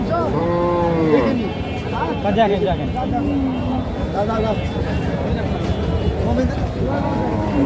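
Cows of a local breed moo loudly at a busy Bogura cattle market, with several long, drawn-out calls from nearby rising over a steady crowd murmur and people talking.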